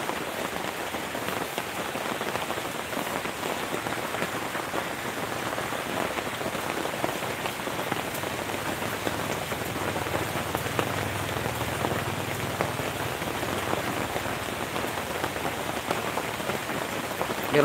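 Heavy rain during a typhoon pours steadily on surfaces in a dense, unbroken hiss, constant and fairly loud with no voices.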